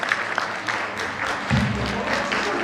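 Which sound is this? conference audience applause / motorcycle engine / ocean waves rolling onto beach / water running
conference audience applause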